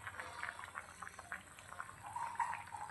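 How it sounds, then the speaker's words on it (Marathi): Water simmers in a pot ahead of being salted for a barnyard millet upma with peanuts, chilli and potato, giving a faint, close bubbling and soft gurgling that flickers on and off. "पाणी हे आधी असंच उकळू द्यायचं आहे"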